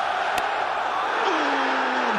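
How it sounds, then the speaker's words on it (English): A crowd at an India versus England cricket test match cheers and roars as a bowler runs in on a hat-trick. The noise is a broad, sustained far-off wash with a brief sharp burst near the start. "The crowd are into it."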